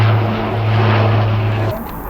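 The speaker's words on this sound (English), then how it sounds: "this is a big plane coming over" A large propeller plane flies over at the RIAT Fairford airshow, a loud steady engine drone with a low humming tone that cuts off sharply near the end, leaving quieter background noise.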